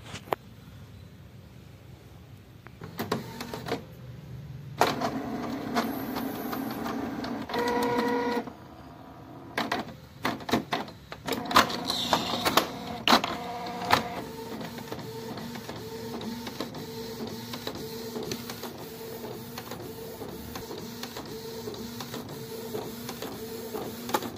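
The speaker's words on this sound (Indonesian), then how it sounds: "langsung saja kita proses cetak kedua ya" A Canon inkjet printer loaded with sublimation ink prints a transfer, with whirring feed motors, clicks and bursts of carriage movement, then a steadier hum of print passes, close and moderately loud with no talking.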